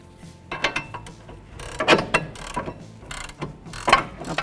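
A socket wrench ratchets a bolt loose in a series of close, crisp clicking bursts with short pauses between the pulls, mixed with metallic knocks and handling noise.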